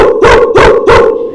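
A dog gives three loud, close barks in a steady rhythm, then falls quiet.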